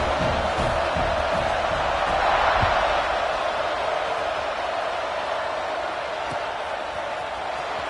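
A football stadium crowd roars steadily ahead of a kickoff, a broad, continuous wash of cheering that swells slightly in the middle and holds loud throughout.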